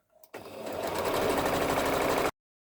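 A sewing machine runs a steady, close whirring stitch for about two seconds as it sews around the edge of a fabric bag with wadding inside, starting abruptly and cutting off cleanly.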